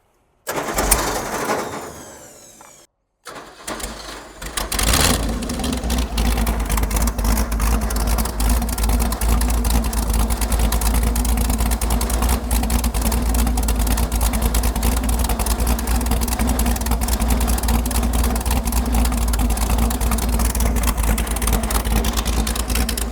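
Ford Pinto wagon engine starting up after a brief sputter, then idling or held at steady revs close by for about twenty seconds, a continuous low rumble with no talk over it.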